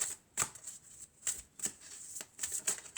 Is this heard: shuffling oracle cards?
yes